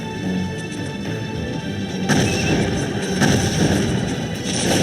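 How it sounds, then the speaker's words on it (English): A battle in the strategy game Cossacks 2, Poland against Russia, fills the scene with dense, steady crackling musket gunfire and rumbling volleys that swell louder partway through, with no voices. "We are under gunfire."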